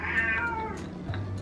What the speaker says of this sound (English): this cat will not stop meowing